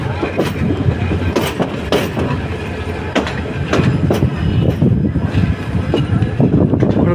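A train pulls into Parbatipur railway station, a steady rumble with rhythmic wheel clatter and repeated sharp clanks over the track, close and loud throughout.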